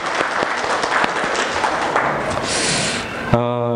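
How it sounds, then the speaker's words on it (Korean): A church congregation gives a big round of applause to the Agape choir, loud and dense clapping that ends abruptly in a brief tonal hum. "또 한 해 동안 또 수고하시라고 우리 큰 박수 한번 드리도록 하겠습니다"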